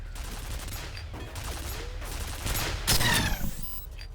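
Gunfire in the video game F.E.A.R., a mix of shots and bursts over a steady low rumble, with a louder burst near the end of the short stretch.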